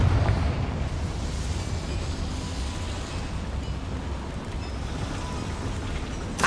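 A Confringo fire spell blasts in Hogwarts Legacy, opening with a loud burst that settles into a dense, crackling rumble lasting several seconds, with a brief flare near the end and no talking.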